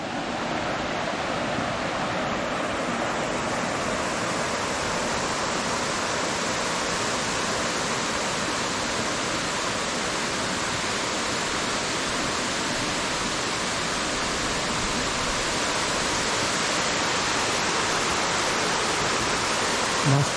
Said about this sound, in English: And I've arrived at another little waterfall.